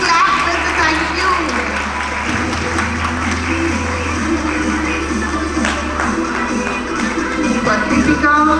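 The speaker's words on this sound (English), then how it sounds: "Where's the clap? Where's the thank you?" Audience applause fills an event hall on play-based learning, with a dense steady wash of clapping that carries on throughout while voices murmur over a low hum.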